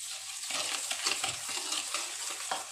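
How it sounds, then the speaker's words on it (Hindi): Sugar and ghee being mixed together in a bowl for coconut biscuits, a steady close scraping and swishing stir with soft irregular knocks, continuous throughout. "अच्छी तरह से चीनी को और घी को अच्छी तरह से मिक्स कर लेंगे"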